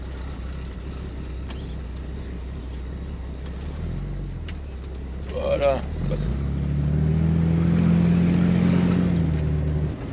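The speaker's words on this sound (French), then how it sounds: "Elle a un joli son. Alors je rappelle qu'elle est équipée du moteur 6 cylindres, 4 carburateurs." A 1966 Chevrolet Corvair Monza convertible with a six-cylinder, four-carburetor engine driving off, a steady low engine hum that swells louder as it pulls away, with someone talking over it.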